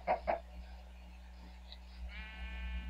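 Two short sheep bleats from a Minecraft sheep, close and fairly loud, come at the very start. A faint steady hum follows, then a soft whine near the end.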